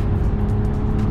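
A Mercedes accelerates hard to overtake another car on the German autobahn, its engine a loud, close, steady growl with a low rumble throughout.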